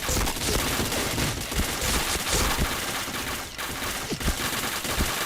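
Dense gunfire in a shooting video game, rapid machine-gun bursts and overlapping shots in loud, near-constant volleys with brief dips.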